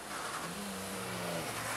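Rally car at the Wechselland Rally accelerating hard past, a steady engine roar with a rising tone, close and loud with no talking.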